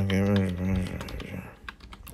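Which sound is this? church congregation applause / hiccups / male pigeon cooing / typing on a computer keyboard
typing on a computer keyboard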